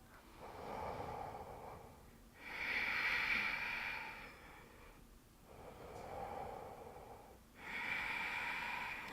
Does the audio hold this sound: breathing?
yes